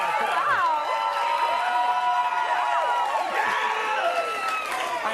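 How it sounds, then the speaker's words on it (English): A studio audience cheers and whoops loudly for a guest's entrance, a dense wall of overlapping shouts and squeals sustained throughout. "Huge reaction from our crowd."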